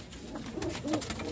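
Blue-brown pigeon cooing nearby, a couple of soft low coos rising over a faint background hiss.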